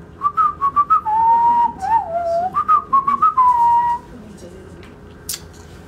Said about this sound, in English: Whistling music.